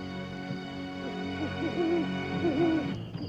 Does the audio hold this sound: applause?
no